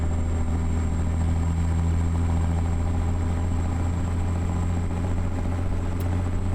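A 6 1/4 Caterpillar 3406B truck engine in a 379 rig idles in American Truck Simulator, a steady deep rumble with a constant low drone and even vibration throughout, loud and close with no talk.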